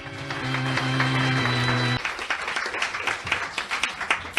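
A studio audience claps briefly, first under a held musical tone, then as scattered, uneven hand claps that taper off.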